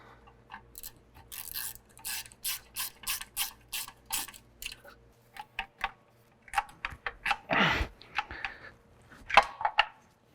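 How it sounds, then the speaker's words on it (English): A ratchet snugging down turbo bracket bolts on a Chevy 1.4L turbo engine, with quick bursts of close clicking followed by scattered metallic clinks and handling sounds. "Now we just gotta snug down our bracket bolts."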